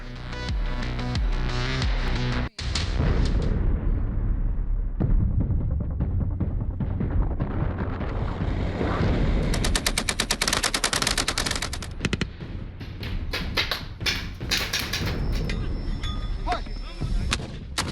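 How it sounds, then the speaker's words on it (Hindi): Heavy, continuous barrage of loud explosions and rapid gunfire at a military firing range in Bikaner, booming blasts overlapping with machine-gun bursts, sustained without pause throughout. "ये धमाके बीकानेर की फायरिंग रेंज में हो रहे हैं"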